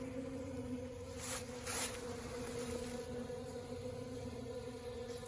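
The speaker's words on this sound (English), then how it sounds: "the bees are able to access it really well" Honey bees swarm around a dry pollen feeder made of mason jars of Ultra Bee pollen substitute under a telescopic top lid. A continuous close, droning buzz swells slightly now and then as individual bees fly nearer.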